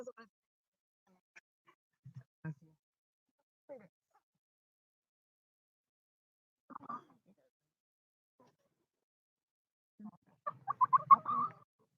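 Chickens eating feed, scattered soft clucks and murmurs spread across the stretch, quiet and close, ending with a denser burst of clucking and scratching.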